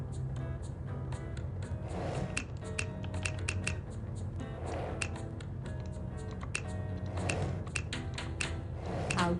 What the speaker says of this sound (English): You should be typing in your name now.